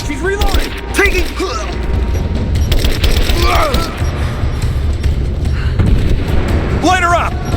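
Sustained gunfire in Rise of the Tomb Raider on Extreme Survivor difficulty, loud rapid shots and booms rattling almost continuously while enemy voices shout commands over the battle.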